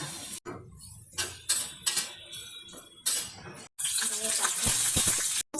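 Fenugreek seeds, mustard seeds, urad dal and cumin fry in oil for a Telugu-style tempering, giving a close, bright sizzle in uneven bursts that turns into a steadier, louder hiss near the end.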